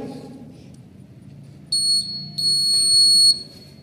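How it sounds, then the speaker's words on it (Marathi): A homemade gas leakage detector, built with a sensor, battery and panel, sounds its buzzer in two bursts of steady, loud, high-pitched tone after a quiet stretch of faint background noise. "या ठिकाणी गॅस देत असताना सेन्सर बझर व लाल दिवा पेटवतो।"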